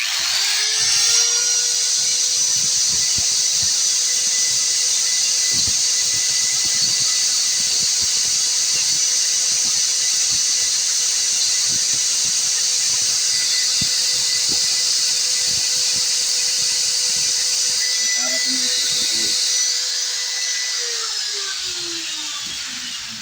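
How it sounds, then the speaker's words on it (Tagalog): Angle grinder cutting into the blower part of a Suzuki DA64 car aircon unit, a steady high whine held for about twenty seconds before spinning down, loud and close with no talk. "Ang gagamitin natin grinder."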